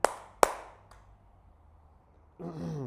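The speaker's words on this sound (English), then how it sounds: "2 claps for Justin" Two sharp hand claps for a sales team member ring out close together, followed by a brief pause and then a person talking.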